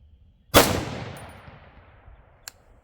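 A single sharp .308 Win rifle shot firing Federal Gold Medal Match ammunition, loud and close, with a long decaying outdoor echo tail and a faint metallic tick afterward.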